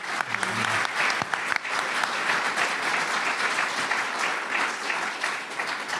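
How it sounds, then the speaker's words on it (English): A live audience at a startup talk session applauds steadily for about six seconds, dense even clapping filling the room at a constant level with no voices standing out. "If we could please give a round of applause."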